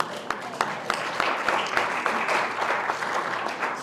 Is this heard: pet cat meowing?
no